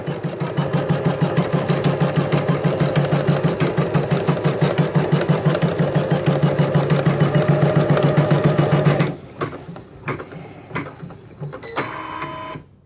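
A Janome MC10K embroidery machine stitches down trapunto wadding, a steady rapid mechanical chatter that runs loud and even for about nine seconds, then stops, leaving faint handling clicks and rustles.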